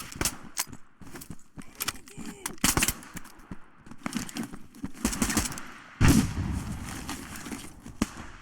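Suppressive gunfire in the video game Operation Harsh Doorstop, rapid bursts of close shots with clattering impacts, turning into a denser sustained volley partway through.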